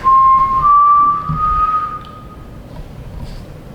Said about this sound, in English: we can whistle and you can whistle back.